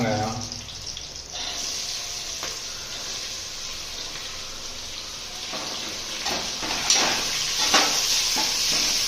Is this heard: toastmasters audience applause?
no